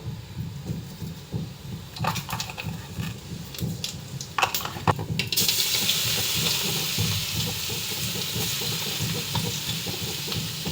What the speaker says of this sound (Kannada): ಇವಾಗ ಇಲ್ಲಿ ಎಣ್ಣೆ ಕಾಯ್ತದ. ಈಗ ಫಸ್ಟ್ ಏನು ಮಾಡಬೇಕು, ಜೀರಿಗೆ ಸಾಸಿವೆ ಹಾಕಬೇಕು.